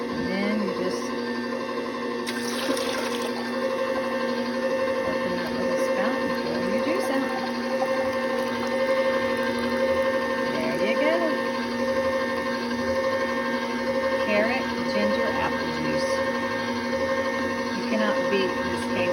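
An electric Caynel juicer grinds apple, ginger and carrot in a steady, even motor whir that holds for the whole stretch, with faint rattling of pieces against the machine and no clear talking.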